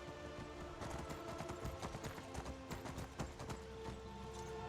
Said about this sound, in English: I'm just going to leave my horse on this side of the river.